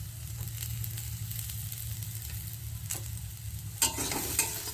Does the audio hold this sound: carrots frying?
yes